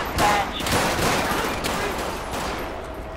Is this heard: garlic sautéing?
no